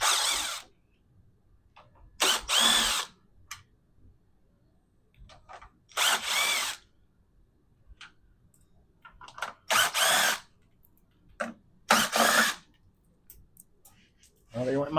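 A power drill removes screws from a Jeep's third brake light in short separate bursts of loud whirring, about five runs with quiet gaps between them, close to the listener.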